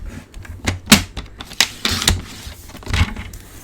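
Card paper cut for a fun fold card, a quick run of close clicks, snaps and scraping strokes from a paper trimmer, uneven and sharp with short gaps between.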